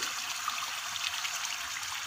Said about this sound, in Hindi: आलू बुखारा पानी समेत मैं इसमें ऐड कर रही हूँ